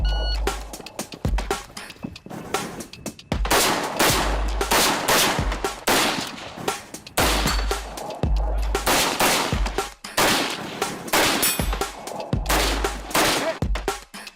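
A rifle fitted with a muzzle brake fires rapid strings of sharp, loud shots in bursts with short pauses between them at a shooting competition, close to the listener.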